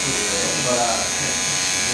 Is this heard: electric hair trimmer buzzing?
yes